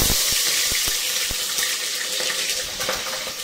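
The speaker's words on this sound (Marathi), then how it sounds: "मिरची पहिलं तळून घेणार" Green chillies frying in very hot oil in a pan, a steady loud sizzle and crackle with sharp pops throughout, no talking.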